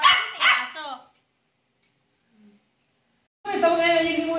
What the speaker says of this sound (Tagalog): Papansin ni aso.